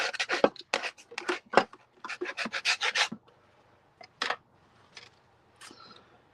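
A shim scraping paper off a surface, with quick rough rasping strokes in a close burst, then a few sparser scrapes tapering off.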